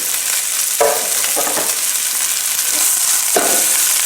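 Bean sprouts and mushrooms hit a smoking-hot pan and sizzle loudly and steadily, with a few sharp stirring scrapes and bursts of crackle breaking through the constant hiss.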